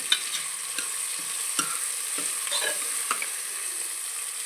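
Onions stirred and frying in a pan until lightly browned, a constant bright hiss of oil with scattered soft scrapes and taps from the spoon, close-up and steady, no talking.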